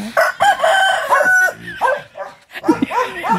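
A rooster crows loudly and close by, its drawn-out cry repeating, with people's voices and laughter mixed in.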